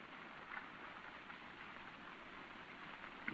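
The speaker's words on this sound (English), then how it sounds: "It's been raining for a week." Steady rain after a week of downpour falls as a soft, even hiss on surfaces, faint and unbroken throughout with no voices over it.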